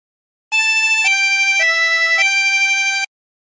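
Harmonica plays a short phrase of the hymn Be Thou My Vision as four sustained, clear notes in a row, close and fairly loud, with no voices.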